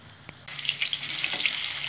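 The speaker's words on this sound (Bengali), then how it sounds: "এখন পকোড়াগুলো ভেজে নেব সুন্দর করে" Prawn pakoras, made from lentil paste and spring onion, hit hot oil with a soft tap, then break into a bright, steady bubbling sizzle of deep frying nearby.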